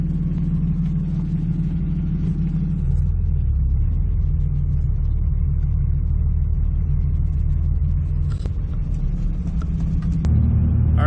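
A car engine drones steadily under load while driving, a continuous close rumble that shifts in pitch partway through and rises again near the end, with no talk.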